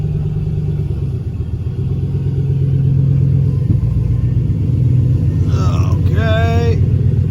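Turbocharged 6.0 LS V8 in a caravan running rich, a deep steady idle rumble throughout with a slight rise in the middle, and a person talking briefly near the end.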